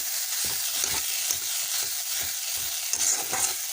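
Shredded cabbage fries in a pan with a steady sizzle while a utensil stirs it in repeated scraping strokes, close and moderately loud, with no voices.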